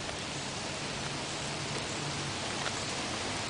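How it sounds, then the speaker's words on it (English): Steady rain falls outside as an even, soft hiss with no breaks, fairly quiet and unbroken by voices. "it is raining, see?"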